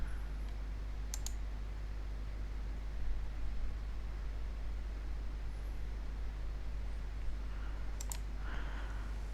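A few sharp mouse clicks, one pair near the start and another near the end, over a steady low hum and background noise while geometry is opened in design software.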